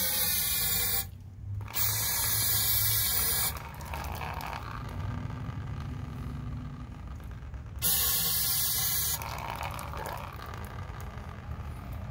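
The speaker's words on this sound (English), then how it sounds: "So what we're gonna end up doing is using brake cleaner." Brake cleaner sprayed in loud hissing bursts onto a broken, welded hydraulic cylinder fitting in a shop, two long sprays separated by quieter working noise.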